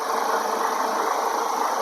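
A Mercedes-Benz W210 E230 running poorly with a misfire and lack of power, idling just after starting: a steady, even mechanical hum with a faint rapid ticking texture, close and unchanging.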